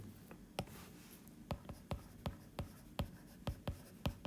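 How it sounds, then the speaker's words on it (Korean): Chalk or marker writing on a classroom board during a high-school math lesson, a faint steady series of short tapping strokes in a quick, even rhythm. "그래서 결론을 여기다 한번 써볼게요"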